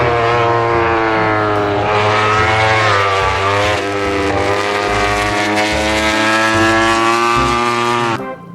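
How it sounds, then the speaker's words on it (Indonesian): A toy helicopter gives off a loud, steady, droning whir with a faint pulsing rhythm, running without a break for about eight seconds before cutting off. "Yang ini ada helikopter."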